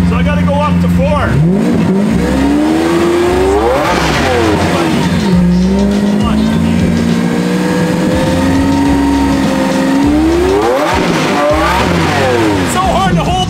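A Lamborghini Aventador with a straight-pipe exhaust and muffler delete revs hard and loud up and down, a sustained roar rising and falling, with people talking nearby.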